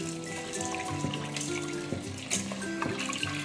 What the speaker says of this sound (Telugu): ఈ పప్పుని ఒక 2 సార్లు బాగా కడగాలి.